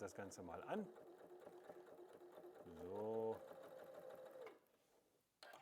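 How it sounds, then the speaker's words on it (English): A W6 N 8000 V2 sewing machine running a hem with its hemming foot, a steady mechanical whir that rises for a stretch of faster stitching before slowing and stopping, with a little talk over the opening. "And then you can start sewing."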